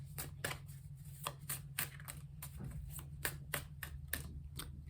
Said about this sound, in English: Let's give it a little shuffle